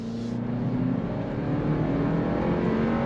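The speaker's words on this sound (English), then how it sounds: "getting out onto the road, are you ready? On throttle, here we go." A 2024 Toyota Land Cruiser in sport mode accelerates on throttle onto a road, its engine a steady, close, loud drone from start to finish with no talking.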